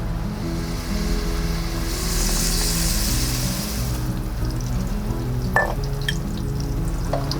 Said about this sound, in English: First, we cook the sausage.